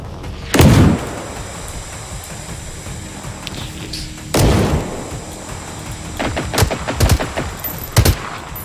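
Enemy robots firing guns in Generation Zero: sharp loud bursts of automatic fire and booming shots ring out at intervals, with a cluster of rapid cracks toward the end over a quiet background.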